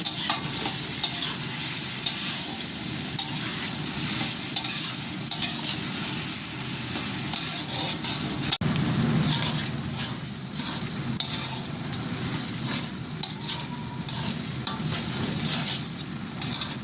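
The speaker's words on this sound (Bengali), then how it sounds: "দিয়ে দেব পেঁয়াজ আর কাঁচামরিচ কুচি চিংড়ি মাছের কুচিগুলো দিয়ে দেবো এখন একসাথে এগুলো ভালো করে ভেজে নেব" Onion, green chilli and dried shrimp fry in hot oil for a pumpkin dish, sizzling steadily and loudly up close while a utensil stirs through them, with no talking.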